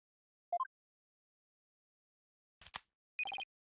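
Phone ringing in the video game Ace Attorney Spirit of Justice: short electronic chimes, a brief noisy burst, then a quick repeated trill, all clean and sparse with silence between.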